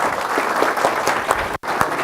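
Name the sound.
audience applause for boxer Mr. Cruz at council meeting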